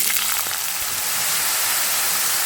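Chopped carrots fry in hot mustard oil in a wok, giving a steady, dense sizzle that stays close and even throughout with no talking.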